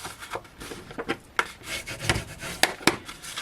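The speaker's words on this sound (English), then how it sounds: "so let's give those a burnish down" Card pieces pressed down on a craft easel with a burnishing tool: a series of short rubbing and scraping strokes, irregular in rhythm, with a few sharper scratches standing out. Close and fairly quiet, with no talking.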